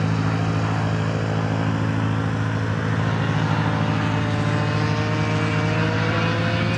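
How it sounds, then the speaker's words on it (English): An RC model jet flies overhead at a model airfield on a windy mid-winter day, a steady turbine whine and roar held at moderate distance, with no talking. "Look, there's the jet."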